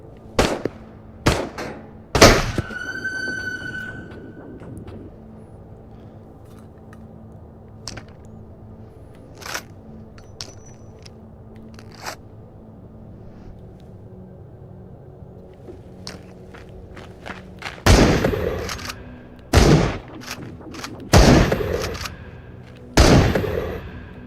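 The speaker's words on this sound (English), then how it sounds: "Sometimes shotguns just really are the tool for the job." Shotgun blasts in the VR shooter Ghosts of Tabor, loud sharp booms spaced irregularly, a few isolated shots early, then a quick cluster of heavy reports near the end, with quieter game ambience between.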